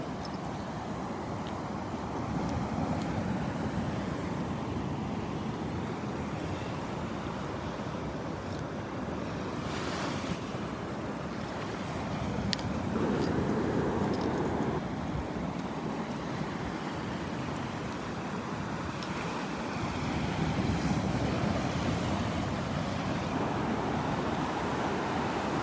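Ocean waves wash steadily onto the beach at Delnor-Wiggins, a continuous broadband surf roar with gentle swells of loudness and some wind, carrying on alone without voices for the whole stretch.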